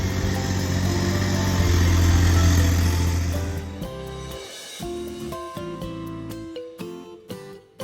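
An excavator digging a drainage ditch on a hot day runs with a steady low diesel rumble that drops back partway through, followed by a few clanks and knocks as the machine works nearby.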